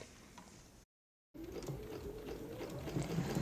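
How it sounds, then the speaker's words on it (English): A sewing machine stitching in the ditch along the seams of a king-size quilt runs with a steady whirring mechanical patter, breaking off in a brief silent gap before resuming louder and close, with no talking. "here's what it looks like when I'm stitching in the ditch at actual speed with the sound turned on"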